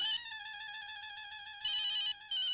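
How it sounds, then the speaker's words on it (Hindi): A mobile phone ringtone plays continuously, a steady bright repeating electronic melody, close and clear with no voices over it, as a call comes in from the boss. "बॉस का फोन आ गया।"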